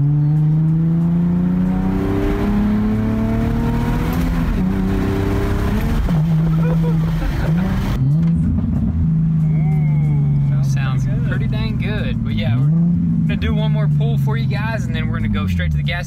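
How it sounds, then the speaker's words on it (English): A V6 engine in an auction drift car revs hard through acceleration pulls, its steady drone rising and falling in pitch as it climbs through the gears, loud and close, with people talking over it in the second half. "let's do a little bit of pulls on this V6"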